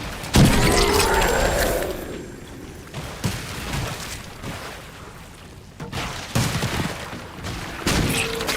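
A Rogue's smoke grenade bursting in Diablo IV combat, a loud opening boom and shatter followed by a stretch of clattering impacts, rattling mechanisms and scattered hits of battle.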